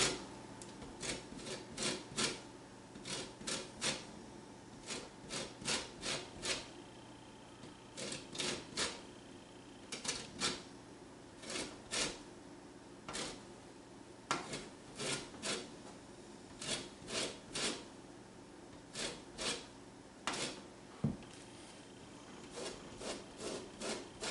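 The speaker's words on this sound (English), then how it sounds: "Get some of this lemon zest off here." Lemon zest rubbed off on a small cheese grater: repeated quick rasping strokes in short bursts with brief pauses, close and fairly quiet, no talking.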